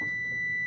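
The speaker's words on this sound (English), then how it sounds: "the timer is going off" Kitchen timer sounding during caramel cake baking, a single sustained high-pitched electronic beep lasting under a second, loud and clear.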